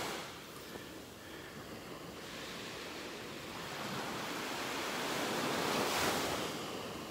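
Ocean surf washing onto a beach in the early morning, a steady broad rush of breaking waves that swells louder toward the end, with wind noise and no voices.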